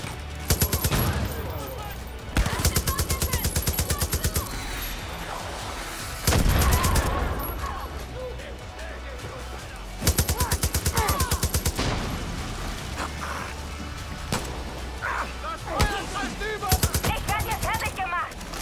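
Repeated bursts of automatic gunfire and rapid shot volleys from the Far Cry New Dawn shooter game, loud and close, coming in several clusters with short gaps between them, with a voice talking over parts of it.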